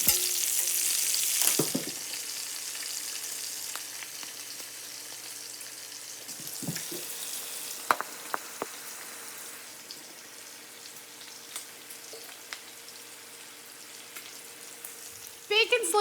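Bacon frying in a pan, a loud sizzle at first that settles into a quieter crackle with scattered pops and clicks and occasional clatter of utensils, no one speaking.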